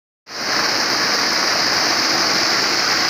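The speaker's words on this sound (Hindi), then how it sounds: "और ये वाटरफॉल भी होटल का ही हिस्सा है।" Waterfall beside a hotel in Chitral, a loud steady rushing roar of falling water, close and continuous after a brief silent start.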